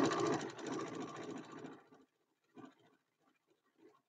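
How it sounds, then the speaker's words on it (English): A Singer Quantum Stylist 9960 sewing machine stitches in a steady, dense whir for about two seconds, then stops, leaving a few faint, sparse clicks and handling noises. "Just sewing away."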